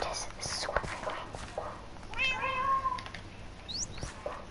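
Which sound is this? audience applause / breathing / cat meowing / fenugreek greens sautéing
cat meowing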